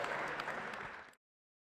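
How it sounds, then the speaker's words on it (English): Fans in the UPIKE Gymnasium applauding senior members of the University of Pikeville men's basketball team on Senior Day, a sustained crowd clap that fades slightly then cuts off abruptly. "would you join me in a warm round of applause and appreciation for all of your senior members of the University of Pikeville basketball"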